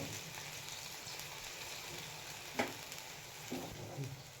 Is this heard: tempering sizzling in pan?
yes